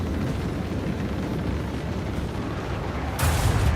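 Starship battle in Rogue Trader, a continuous dense rumble of weapons fire and explosions that swells into a louder burst near the end.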